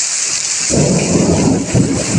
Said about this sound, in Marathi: तुमच्या गडगडण्याचा आवाज पण येत असतात सगळीकडे पाणीच पाणी बघा केवढो पाऊस